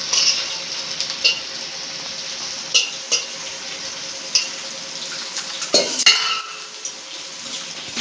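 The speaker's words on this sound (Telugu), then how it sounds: "ఒకసారి మొత్తం మిక్స్ అయ్యేలా మిక్స్ చేసుకోవాలి" A spicy chicken fry being stirred in a pan: steady scraping and clinking of a utensil against the pan over a low sizzle, with a few louder knocks near the end.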